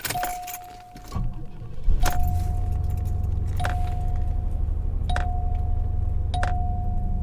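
Cadillac warning chime dinging in a steady repeating pattern of about five tones at the start of the clip, with the engine then starting up and settling into a low, constant idle rumble.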